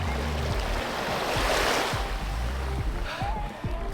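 Ocean surf around Siargao island, a loud, continuous wash of breaking waves close by, with intermittent low thumps and rumbles from wind or boat movement.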